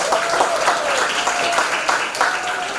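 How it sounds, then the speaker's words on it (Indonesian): Steady applause from a seminar audience greeting a young lecturer in Pancasila and civic education, dense continuous clapping at moderate volume with a faint voice tone threading through. "Tepuk tangan dong."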